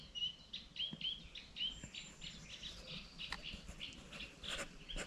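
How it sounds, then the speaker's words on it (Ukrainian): Birds sing in the Dnipro floodplain, faint repeated high chirping phrases and tweets at a distance throughout, with soft outdoor ambience and no talk. "У нас сьогодні от така краса, спів пташок."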